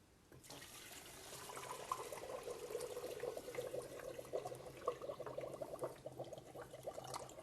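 Water pours and splashes steadily into a sheet pile wall soil model, a constant trickling flow starting abruptly and continuing close and clear with no talk.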